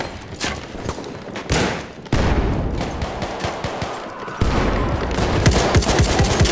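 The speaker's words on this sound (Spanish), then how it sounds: "¡Ametralladora detectada!" Rapid machine gun fire and explosions fill a Battlefield 1 battle in Frontlines mode, loud dense bursts continuing throughout with thuds and booms layered over them.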